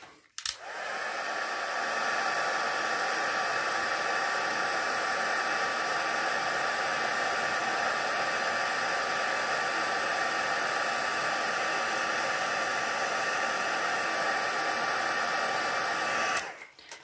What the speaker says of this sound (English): Pop the white emboss powder over the top. And I'll just heat emboss that,